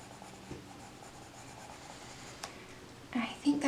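Quiet, steady scratching of a cobalt green colored pencil on paper with soft strokes, faint and close, ending in a few louder rustles.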